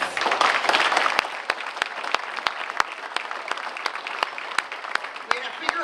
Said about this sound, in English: I want a huge round of applause for all our Korean War veterans.